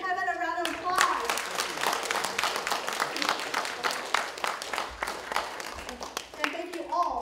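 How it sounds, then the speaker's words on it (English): A room full of people gives a round of applause at a mental health talk, with steady, lively clapping running under a speaking voice heard at the start and end. "So everyone, let's give Kevin a round of applause."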